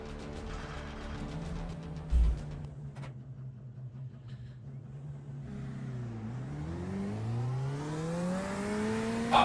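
A GT3 race car engine in the iRacing sim racing game, droning steadily before dropping low and then climbing through the revs as the car accelerates, loud and continuous with a brief thump partway through.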